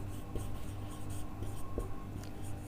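A pen scratching out a chemistry formula on paper, with steady short strokes over a constant background hum.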